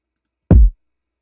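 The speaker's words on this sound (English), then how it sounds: "this is the pattern that I chose for the kick" One deep, punchy kick drum thump with a low boomy body that fades out fast, played alone.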